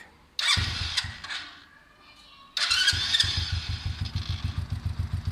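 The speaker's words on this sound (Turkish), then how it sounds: "Elif Hanım motorumuzu çalıştırabilir misiniz?" A Kuba Boss 50cc motorcycle engine cranks once, catches briefly and dies. A second start then fires it into a loud, near, steadily pulsing idle.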